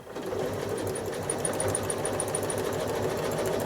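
A sewing machine travel-stitches a quilt, its needle running in a fast, even, continuous chatter heard up close and alone.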